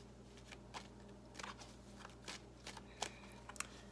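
Tarot cards being shuffled close up for a love reading, a faint series of short papery riffles and soft slaps at uneven intervals in a quiet room.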